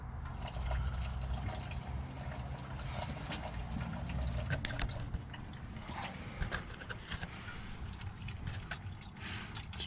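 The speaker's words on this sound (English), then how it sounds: "It's just finishing up draining." Radiator coolant drains from a 2006 Jeep Grand Cherokee, a steady splashing trickle of liquid with scattered drips, close and continuous, thinning slightly toward the end.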